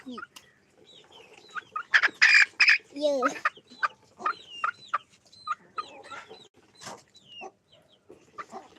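A hen clucks and squawks among her chicks, with a series of short near calls and sharp cries; faint high peeps from the chicks come in between, and the sounds are irregular and close.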